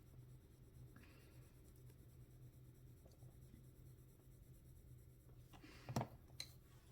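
A pencil scratches faintly across smooth paper that barely takes the graphite, a soft, dry stroke sound under quiet room noise, with a couple of louder taps or rubs near the end.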